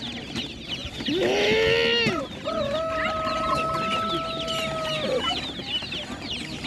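Chickens cluck at a busy animal market, with a rooster's drawn-out crow rising clearly over the hen chatter. Nearby people talk in the background.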